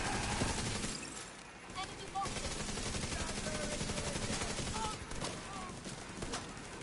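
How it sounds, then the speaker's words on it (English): Rapid automatic turret fire in the video game Tom Clancy's The Division 2, a dense, continuous crackle of shots running the whole stretch with brief dips, loud and close. "Turret is hitting for 238k, man."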